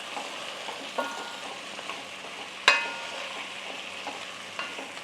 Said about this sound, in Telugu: ఇట్లా బాగా కలిదిప్పుకోవాలి సొరకాయ ముక్కలు వేసినాక